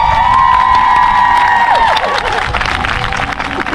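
An audience at an International Yoga Day event in Candiac, Quebec bursts into loud cheering, whoops and applause. A sustained tone fades early, and the clapping and shouts continue steadily after it.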